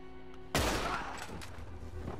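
Gunfire in Red Dead Redemption 2: one sudden loud shot crashes in, then rings out and decays into a rumbling tail under steady game ambience.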